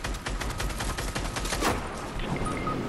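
Rapid gunfire bursts in a multiplayer shooter video game, a dense crackling volley of shots running steadily through the clip with one sharper crack near the middle, no voices.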